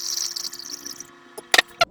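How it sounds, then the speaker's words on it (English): Liquid product in DCM is poured back into a lab vessel during an isopropyl benzoate synthesis, giving a soft steady trickle that fades out before a few sharp glassy clinks near the end. "Pour my product back in"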